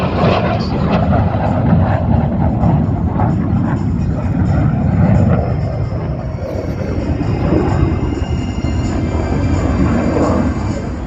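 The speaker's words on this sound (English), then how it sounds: "He's taking the aircraft vertical there, Randy." A fighter jet roars past overhead at an airshow while climbing vertically, a loud, sustained engine rush that swells and shifts slightly as it passes.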